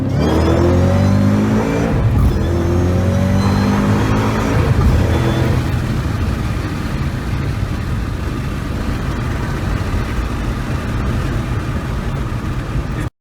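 A 2014 Shelby GT500 with a Borla ATTAK catback exhaust accelerates hard from a roll, its loud engine note climbing for several seconds before settling into a sustained close-up roar and whir.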